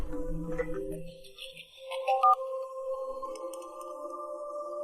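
A mobile phone rings with a bright, repeating electronic melody of sustained tones, moderately loud, after a brief stretch of low background murmur.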